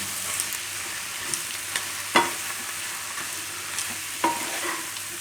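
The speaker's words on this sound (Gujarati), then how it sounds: "હવે આપણે જે રોટલીના કટકા કર્યા હતા એ એમાં નાખી દેશું આને મિક્સ કરી દેવાનું" Roti pieces stirred into tempered buttermilk in a pan, a soft steady sizzle and wet swishing broken by a few sharp spoon clinks against the metal, close by with no speech.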